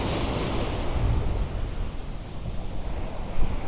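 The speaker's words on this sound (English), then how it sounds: "The wind's certainly picked up a little bit now though." Wind blows hard over open sea, a steady broadband roar with microphone buffeting and the rush of waves beneath, loud and continuous with no voices.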